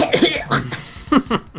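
A few harsh coughs in quick bursts, close and fairly loud, with short gaps between them.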